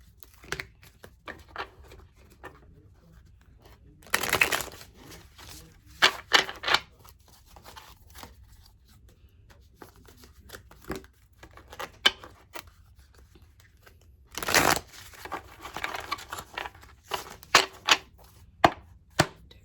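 Tarot cards are shuffled in quick, crisp bursts of riffling and tapping, separated by quiet pauses, close and fairly soft.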